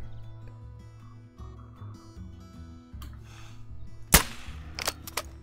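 An air rifle fired at a wild boar in the hunting video game Call of the Wild, one sharp crack cutting through quiet outdoor ambience with bird calls, followed by a few fainter rustles and knocks.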